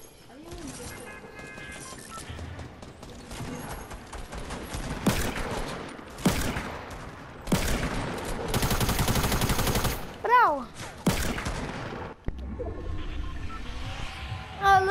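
Gunfire in the video game Fortnite rings out in several loud bursts and single shots across the stretch, mixed with game effects and background music, and players talk over parts of it.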